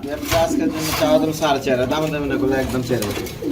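A yellow-coloured breeding pair of pigeons with eggs coos close by in soft, rolling bursts, heard under someone talking over them.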